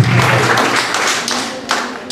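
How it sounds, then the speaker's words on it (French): Audience applause at the inauguration ceremony of the renovated Acarouany chapel, heard as a short, fairly loud burst of many hands clapping close by, continuing steadily for about two seconds. "Je vous demande de l'applaudir puisque c'est lui qui a la charge des travaux et de l'église."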